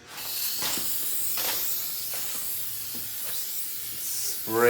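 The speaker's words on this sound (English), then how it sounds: "spray the brake cleaner on" Continuous hissing spray from an aerosol can of brake cleaner, steady and close, with a few brief bursts and a louder rush at the end.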